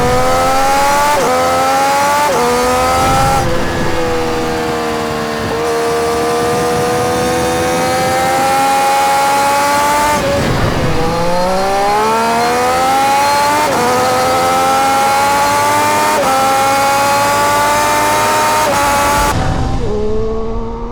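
A 2020 Triumph Street Triple RS three-cylinder engine revs hard through repeated gear changes, its pitch climbing and dropping in steady waves, loud and continuous with no voices.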